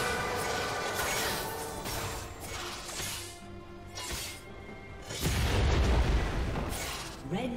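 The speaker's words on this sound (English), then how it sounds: "Red team's inhibitor has been destroyed." Booms and crashing blasts ring out as an inhibitor is destroyed in a ranked League of Legends match, with repeated impacts and a heavier explosion near the end over a busy battle din.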